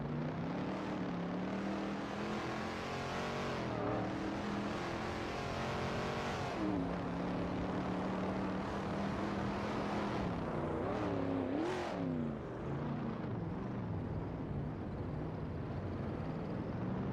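Video game Vineyard Supercar class race cars on a narrow, tight-cornered Rio de Janeiro Mini Reverse track make a continuous loud engine drone, with pitch rising and falling as they accelerate and brake.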